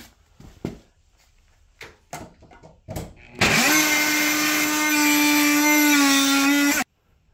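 A multitool fitted with a standard Diablo blade cuts into wood with nails, a loud, steady buzzing drone that runs unbroken for about three and a half seconds and then stops abruptly, after a few sharp knocks and taps.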